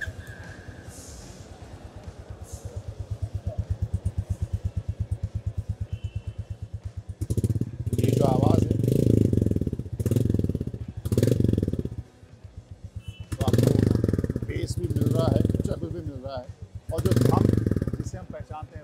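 A 2023 Royal Enfield Bullet 350 single-cylinder motorcycle idles after starting, its steady low thump running throughout, with someone talking over it in bursts during the second half.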